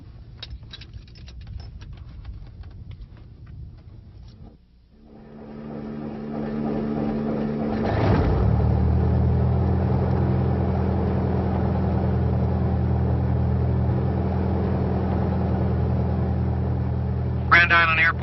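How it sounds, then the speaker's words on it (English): Small airplane engine cranks over and catches at the start of a preflight run-up, then settles into a loud, steady droning idle that continues to the end. "you're ready to start the engine."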